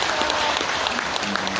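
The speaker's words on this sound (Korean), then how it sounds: "큰 박수 한번 주시죠." A dense, steady round of audience applause for a board member at a farm cooperative members' training event, loud and continuous from start to finish with no voices.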